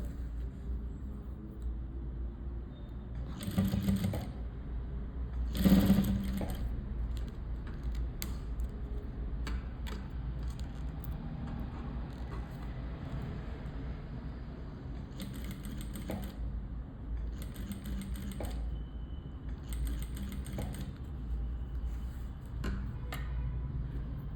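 Sewing machine stitching the side seams of a boat neck blouse, quick bursts of rapid ticking stitches separated by quiet pauses, close and fairly faint over low background hum.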